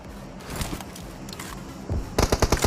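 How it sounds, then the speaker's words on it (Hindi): Bursts of automatic gunfire in the mobile battle game PUBG Mobile ring out from nearby houses, with scattered shots early on and then a fast, loud rattling volley of about half a dozen rounds at the end, with no talking. "तो फिर मेरे को इन घरों में से फायरिंग आती है"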